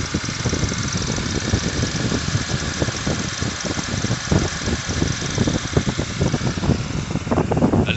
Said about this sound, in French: On entend bien qu'il y a un défaut et il manque un cylindre.